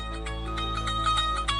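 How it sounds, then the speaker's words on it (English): A phone ringtone sounds for an incoming call, a bright electronic melody of repeated tonal notes that plays close and clear with no talking over it. "Phone call coming in."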